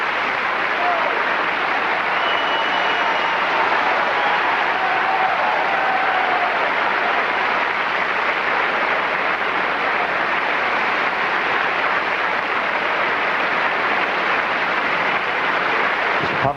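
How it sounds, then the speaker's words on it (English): Sustained applause from New York Philharmonic players for Pavarotti fills a concert hall as a broad, continuous roar of clapping that holds steady throughout. "And they, in turn, applaud him."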